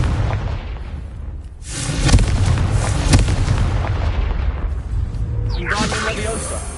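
Confringo blasting spell explosions in the Hogwarts Legacy video game: heavy rumbling booms and bursts that build into a sustained roar, then a trailing crackle near the end.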